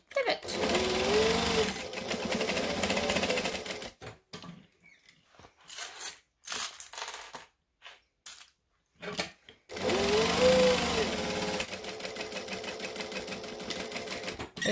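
A sewing machine back stitches a hexagon patchwork bag in two long, steady runs; in the quiet gap between them a voice talks briefly over scattered small clicks.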